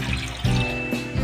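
Glasses of water are poured into a pot of chicken stew (sinampalukan na manok). The splashes are short and close, with a couple of distinct pours in quick succession.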